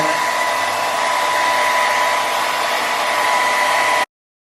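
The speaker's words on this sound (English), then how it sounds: "And then I'm just gonna blow dry that." Hair dryer blowing steadily on glue spray applied along the lace hairline of a T-part lace wig, a loud continuous whoosh with a constant whine that runs about four seconds and then cuts off abruptly.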